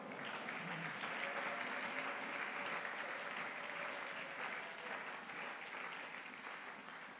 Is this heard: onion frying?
no